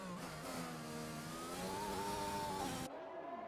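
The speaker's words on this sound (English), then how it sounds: "Actually gonna bump the car sound up just a bit." A video game racing car engine revs high and steady in a simulated French Grand Prix, its pitch climbing and shifting through gears, loud and close, then cutting to a lower drone.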